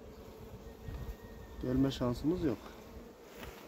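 Honeybees buzz around a newly filled hive, a steady close drone under someone speaking briefly in Turkish.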